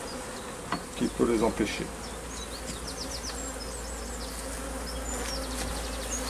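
Honeybees buzzing around a hive as the colony prepares to swarm, a dense, steady hum with individual bees darting close, while a voice speaks briefly in French near the start.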